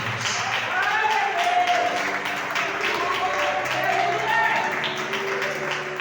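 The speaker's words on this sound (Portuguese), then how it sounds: "Vamos aplaudir o Senhor Jesus" A church congregation applauds steadily throughout a worship service, a dense wash of clapping that carries alongside a voice and some sung or spoken tones.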